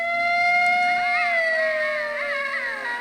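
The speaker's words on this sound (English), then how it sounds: "Yeah, it's coyote." Coyotes howl loudly and close by on a farm, several long wavering, rising and falling cries overlapping like a siren, with no talk.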